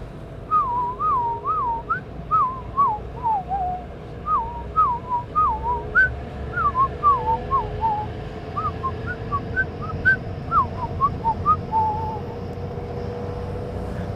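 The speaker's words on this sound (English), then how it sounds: "I could give you a whistled clue." A person whistles a melodic tune alone, a long run of short warbling phrases rising and falling in steady rhythm, fairly close and clear over a low outdoor rumble in New York City.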